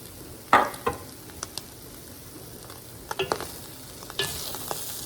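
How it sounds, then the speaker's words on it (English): Browning chili ingredients sizzle steadily in a pan while a utensil stirs them, with several sharp scraping clinks against the pan's surface over a low frying hiss. "Let me give this a stir."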